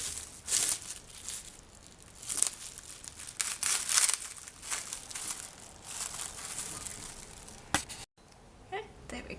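Crinkling plastic wrap is pulled and rustled in bursts while polymer clay beads are unwrapped, the crackles close and uneven, ending in a brief lull before more handling.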